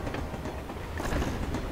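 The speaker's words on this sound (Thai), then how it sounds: "โอ้รถไฟ" Train rolling past in The Amazing Spider-Man 2 video game, a brief rhythmic clatter of rail wheels over a rushing rumble, heard alone at moderate level.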